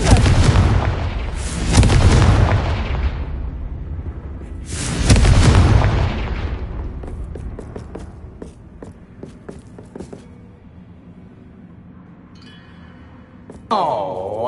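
Confringo spell explosions in a Hogwarts video game: two or three loud, deep booms with long rumbling tails, followed by quieter scattered clatter and footsteps.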